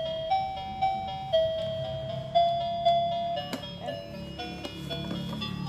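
A toy garbage truck siren plays a tinny electronic melody in steady, repeating tones, with a few sharp clicks and faint rustling underneath.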